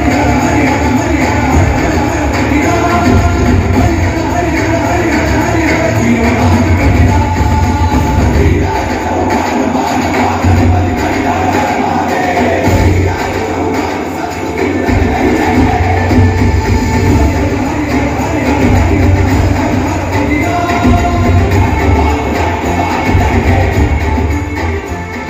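A large audience at the Prithviraj film trailer launch event gives a long, loud roar of applause and cheering, dense and continuous with crowd noise, and no clear speech on top.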